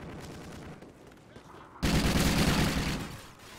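Gunfire in Call of Duty Ghosts multiplayer: after a quieter stretch, a sudden dense burst of loud, rapid shots erupts and continues for over a second before tailing off into a rumble.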